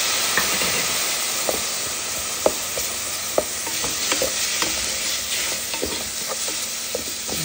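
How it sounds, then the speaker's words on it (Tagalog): Ground chicken sizzles in a pan while being stirred for Filipino sopas soup, a steady close frying hiss broken by repeated scraping clicks of the spoon. "Siyempre isunod na natin ang ground chicken natin."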